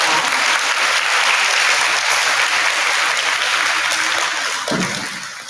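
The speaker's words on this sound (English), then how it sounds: "Let's give a round of applause for Miss Locke" Applause from a kindergarten awards program audience, a dense sustained clapping that carries steadily from start to finish and starts to fade near the end.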